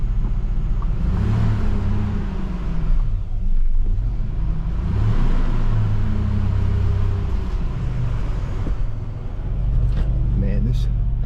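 Engine of a 1986 Nissan 300ZX Z31 barn find cranking to life and settling into a steady, loud low rumble with some revving swells, close by, with a voice talking over it.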